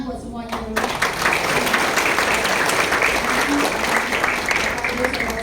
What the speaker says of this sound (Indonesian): Kita tepuk tangan buat semuanya dulu.